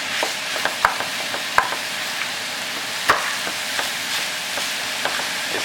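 Onions fry in grease in a pan, making a steady close hiss with occasional sharp clicks and taps from a utensil against the pan.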